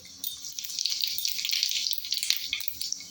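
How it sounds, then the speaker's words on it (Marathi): Cumin seeds crackle and pop in hot oil, a busy sputtering sizzle with scattered sharp snaps, close and fairly loud. "जिरे तडतडलंय"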